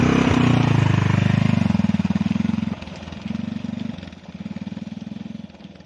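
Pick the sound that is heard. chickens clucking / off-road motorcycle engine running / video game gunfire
off-road motorcycle engine running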